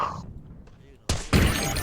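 Glass shatters in a first-person shooter game, a sudden loud crash followed by a brief spray of breaking fragments, with players talking over it.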